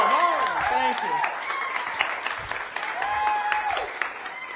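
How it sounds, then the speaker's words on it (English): Audience applause for a band after a live set at a late-night show, a steady wash of clapping running throughout, partly under overlapping voices and cheers. "Please give these guys another round of applause."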